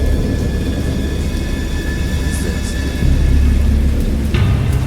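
Steady heavy rain pours with a deep rumble of thunder rolling underneath, growing louder toward the end, dense and close.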